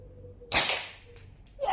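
A single sharp air rifle shot cracks out close by during an outdoor shooting session, followed by a brief fading tail and faint background noise.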